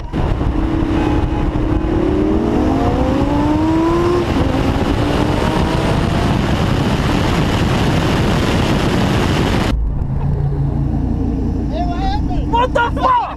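A street race car accelerates hard and close, its engine pitch climbing repeatedly through gear changes in a loud, sustained roar. The roar then cuts to a quieter interior where voices are heard.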